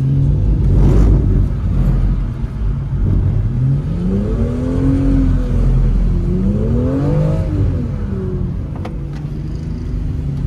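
A car engine revs under throttle, its pitch rising and falling in repeated swells over a steady low rumble, loud and close with no talk.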